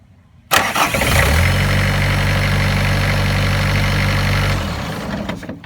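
A Bobcat 763 skid steer loader engine cranks and starts abruptly, then runs at a steady, loud idle for several seconds before winding down.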